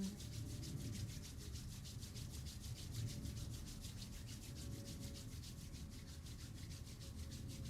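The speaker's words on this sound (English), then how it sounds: "Rubbing your hands again." Palms rubbing briskly together during a hatha yoga session, a steady, close swishing friction with a faint rhythmic pulse that runs unbroken for several seconds, no voices over it.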